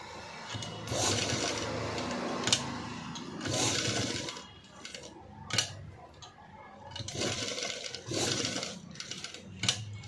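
A sewing machine stitches fabric for a sleeveless, cut-work, padded blouse. It plays in several bursts of steady whirring, each lasting a second or two with brief pauses between, close and moderately loud, with no talk.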